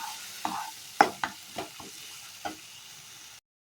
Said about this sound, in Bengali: আমি চার থেকে পাঁচ মিনিটের জন্য কিন্তু ভালোভাবে মশলাটা কিন্তু আমি কষিয়ে নেবো